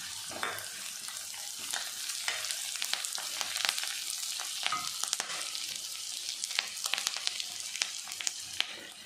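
Chopped onions and curry leaves fry in ghee for bottle gourd kootu, a steady close crackling sizzle with frequent sharp pops and spatters throughout, no voices.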